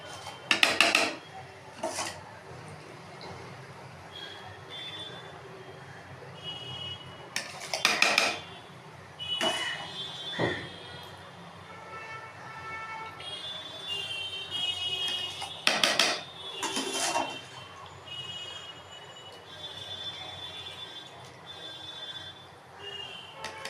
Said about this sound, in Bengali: এবার আস্তে আস্তে চালগুলোকে তুলে দেবো